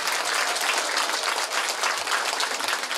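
Dense, steady audience applause fills a school song festival hall in Līvāni, many hands clapping continuously at even loudness throughout, with no voices standing out.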